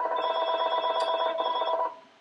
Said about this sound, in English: So I'm hoping that someone else answers the phone.